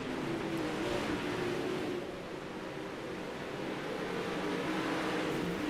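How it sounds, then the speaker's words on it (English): A field of 360 sprint cars on the dirt track at Lanier in a racing video game throttles up at a race restart, a dense, continuous engine roar that swells and washes without distinct gaps. "Brings them in, hits the throttle, green flag back in the air."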